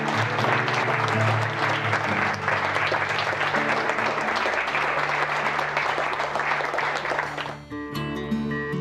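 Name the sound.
audience applause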